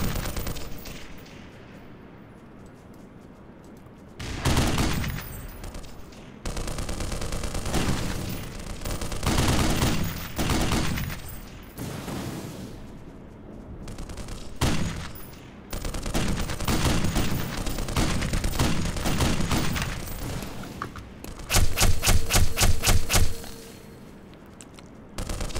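Heavy gunfire in the Black Mesa game, with long loud bursts and booming blasts that come and go over about twenty-five seconds, ending in a rapid, evenly spaced volley of shots.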